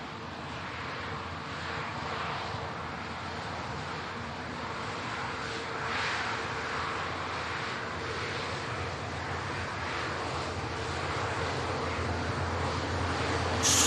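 Qatar Airways airliner at Manchester Airport, a steady broadband jet roar that holds throughout and swells slightly toward the end, with no talk over it.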